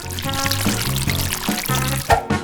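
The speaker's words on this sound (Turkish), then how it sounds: "Bu karışımı suya dökeceğim." Blended fruit puree mixture is poured into water, a close, continuous liquid gush and splash lasting a couple of seconds with a few sloshing bursts at the end.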